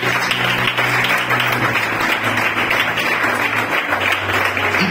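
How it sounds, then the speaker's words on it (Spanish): A church congregation at a Spanish-language service applauds steadily and loudly, with dense continuous clapping from many hands filling the room and a low hum of sound underneath. "Bríndale a Dios este aplauso"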